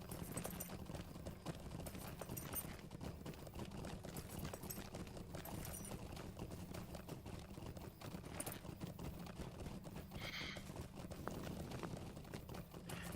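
Horse hooves clopping steadily as a steed is ridden in the Lord of the Rings Online video game, a continuous busy patter with background game sounds throughout, no talking.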